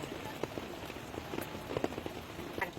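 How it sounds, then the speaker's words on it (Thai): Rain falls steadily over rice paddy farmland during a storm, a soft continuous hiss dotted with scattered drop taps and faint clicks, heard at low level. "ฟังน้องเสียงฝนนะ"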